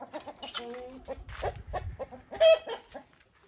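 Hens inside a coop, where eggs are being collected, cluck in short, uneven bursts close by, with an occasional higher squawk.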